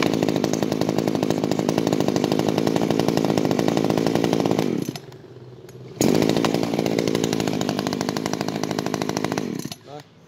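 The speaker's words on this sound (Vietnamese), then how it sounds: "dòng máy cưa xích GC Echo 302 này" An Echo GC302 chainsaw runs loud and close with a buzzing high-revving drone. It cuts to a low idle for about a second, revs back up, then shuts off.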